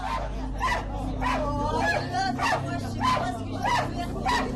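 A dog barks repeatedly in a rhythmic series of sharp yips during a tense street confrontation with municipal police in Colombes, amid a murmur of voices.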